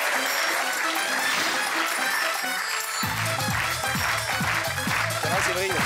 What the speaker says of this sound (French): Merci d'accueillir, avec applaudissements s'il vous plaît, Séverine, mesdames et messieurs.